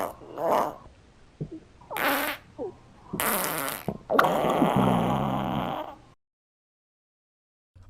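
Cartoon fart sounds in an animated fart video, several loud separate blasts and a long wet, bubbly rip, ending in silence.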